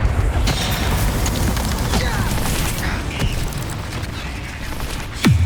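Confringo spell explosions in Hogwarts Legacy during combat: repeated booming blasts and crackling bursts over a dense, continuous battle din, with a sharp swooping impact near the end.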